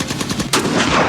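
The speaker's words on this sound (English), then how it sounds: "what we're going to be doing is shooting some guns" Guns fire at a shooting range in Arizona in a rapid, loud, continuous burst of shots with a sharper blast midway, heard close and without talk.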